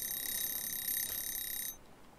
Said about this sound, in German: das war die Eieruhr